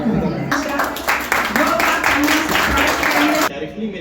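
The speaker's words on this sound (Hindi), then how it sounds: "मैं आशा करती हूँ कि आप सब उनका तालियों से स्वागत करेंगे" A hall audience at a hospital foundation day event in Durg claps to welcome honoured staff, a dense burst of applause that rises suddenly and ends abruptly, with speech before and after.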